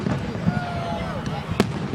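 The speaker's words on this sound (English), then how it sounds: "firecracker." Firecrackers pop amid outdoor fireworks at a Petaluma celebration, with a few sharp cracks, one strong burst near the end, under continuous close conversation.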